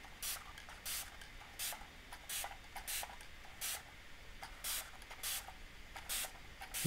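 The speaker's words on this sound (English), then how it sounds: "So we're going to spritz it." A spray bottle spritzes water onto art paper in a run of about a dozen short, crisp hissing bursts, each quick and evenly paced, close and fairly quiet with no talking.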